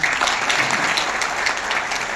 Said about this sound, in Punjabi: ਕੋਈ ਤਾੜੀ ਜ਼ਰੂਰ ਮੰਗੀ ਹੈ